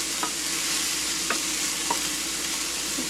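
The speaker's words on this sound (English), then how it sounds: "adding it while everything's getting sauteed in the oil is going to help infuse and release some of that flavor" Garlic and dried thyme sautéing in oil for a chicken gnocchi soup, a soft continuous sizzle with a few light clicks of stirring, quiet and close, with no voices.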